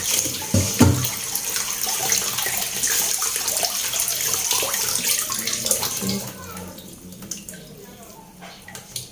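Running tap water splashes steadily over food being rinsed in a sink, a continuous broadband rush with a few brief handling knocks, easing slightly toward the end.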